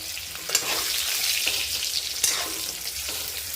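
Green chillies frying in a pan over medium heat, a steady loud sizzle throughout with a couple of sharp spatter pops and faint stirring scrapes, no voices.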